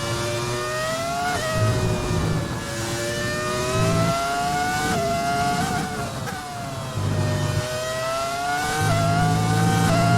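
An F1 car runs flat out in the F1 2020 game, its high engine whine climbing steadily through gears with short dips at each shift, loud and close throughout.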